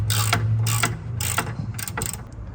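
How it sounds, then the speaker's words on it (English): A hand ratchet spins strut bolts out on a 2006–2014 Honda Ridgeline rear strut, making close, rapid metallic clicking in four or five quick bursts separated by short pauses. "So I do have a ratchet here. I'm gonna just run them out by hand here."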